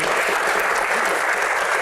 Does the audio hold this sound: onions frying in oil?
no